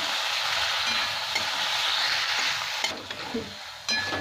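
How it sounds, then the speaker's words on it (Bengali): Spices with Kashmiri chilli powder and tomato being stir-fried in a pan for egg biryani, with a continuous close sizzle under scraping spatula strokes and a couple of brief clatters toward the end, no one talking. "এবারে মশলাগুলো খুব ভালো করে একটু কষে নেবো আমি"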